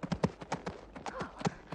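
Horse hooves clip-clop in a quick, uneven rhythm as a horse is ridden, the hoofbeats close and moderately loud in an outdoor western setting.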